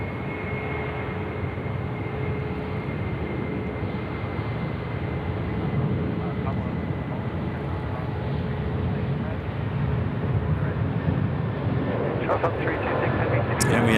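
An airliner rolls for takeoff at Sydney Airport, a broad steady jet roar that builds slightly toward the end with a few faint clicks, people talking over it.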